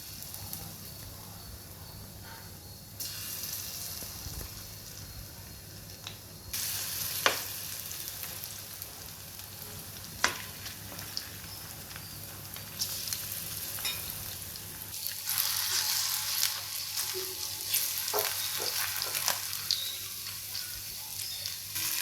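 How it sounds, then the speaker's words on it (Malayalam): Cubes of paneer fry in hot oil, a quiet continuous sizzle that swells louder partway through, with a few faint clicks of utensils. "എണ്ണ ചൂടായി, പനീർ ഇട്ട് കൊടുക്കാം"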